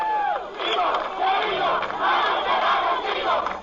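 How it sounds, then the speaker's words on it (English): Crowd of street demonstrators shouting and yelling angrily at police, a dense, loud mass of raised voices that swells and surges without pause. "a crowd of demonstrators took to the streets, cursing the police and demanding justice"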